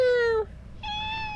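A hungry cat meows twice close by: a long falling cry, a short pause, then a higher, steadier call. No one talks over it.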